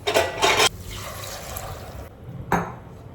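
Water pours into a cooking pot of chicken and potatoes in a home kitchen, a few loud splashing bursts near the start and another short pour later, with no talk.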